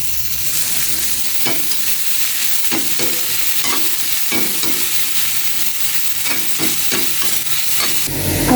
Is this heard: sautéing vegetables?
yes